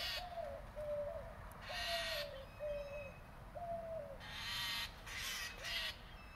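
Birds call repeatedly outdoors with soft, dove-like cooing notes at a steady pace over a low background rumble.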